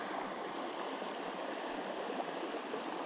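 Water flowing steadily in a small Oregon creek, a constant close broadband rush with no talk, heard outdoors while fly fishing during the 2020 wildfires.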